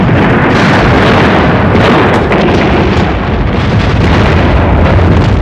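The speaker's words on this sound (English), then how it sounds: "I saw the forward guns of the Atlanta swing out so rapidly and fire." Forward guns of the warship Atlanta firing in a naval night battle off Guadalcanal, rendered as continuous loud, dense booming and rumbling with overlapping blasts and no clear gaps.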